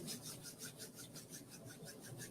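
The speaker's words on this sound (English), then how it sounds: "rub your hands together" Hands rubbing together during a guided meditation, a soft, quiet, rhythmic swishing friction repeating in quick even strokes, close and alone with no talking.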